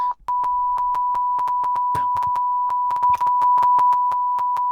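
Censor beep during a gaming chat: a steady pure tone runs almost continuously, broken by a brief gap at the start and chopped by many sharp clicks and taps, with no clear talking.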